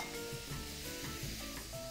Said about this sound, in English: Sizzling seafood.